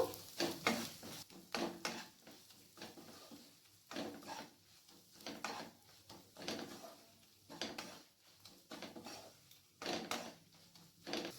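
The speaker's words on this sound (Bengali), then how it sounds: "এরপর ভালো করে মশলাটাকে মিক্স করে নেব।" Spoon stirring turmeric, salt and ground pepper into mushroom curry in a pan, repeated scraping strokes in a steady rhythm with a faint sizzle underneath, no talking.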